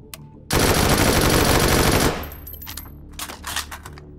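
A carbine fired on full auto in the VR shooter H3VR, one loud, tight burst of rapid shots lasting about a second and a half, then mechanical clatter and scattered handling noises.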